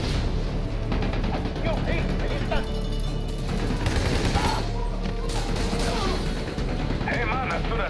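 Machine gun fire crackles throughout a frantic Army of Two firefight, loud rapid bursts layered with crashes and other combat noise, with game voices talking over it.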